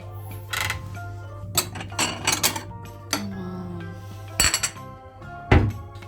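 A plate and a tea glass handled in a home kitchen, giving several sharp clinks and knocks of glass and crockery spread over a few seconds, close and fairly loud against a steady low hum.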